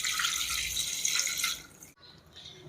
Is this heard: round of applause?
no